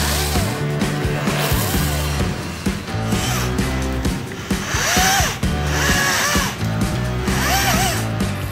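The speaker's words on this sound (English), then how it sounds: "This is a battery powered chainsaw." A battery-powered chainsaw prunes a white pine, its electric motor whining steadily and rising and falling in pitch as it revs and bites into branches, loud and close throughout.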